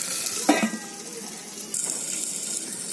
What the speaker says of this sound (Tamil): பூண்டை ஆட் பண்ணிட்டு நல்லா வதக்கி விட்டுக்கோங்க